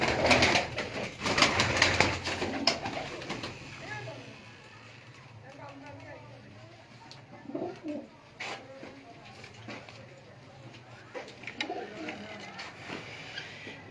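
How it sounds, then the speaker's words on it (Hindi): Pigeons kept for sale in Sheikhupura coo in low, repeated calls beneath someone talking, with handling clatter and rustling loudest at the start. "ये दोस्तों ये भी आपको मज़ा देगा कबूतर माशाल्लाह।"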